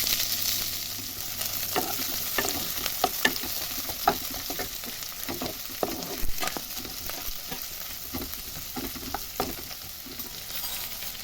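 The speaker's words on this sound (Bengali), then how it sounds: "লঙ্কা, পেঁয়াজ আর আদাটাকে একটু ফ্রাই করে নেব।" Dried red chillies and onion frying in a pan, with a steady soft sizzle and repeated clinks and scrapes of a spoon stirring, fairly quiet and without any talk.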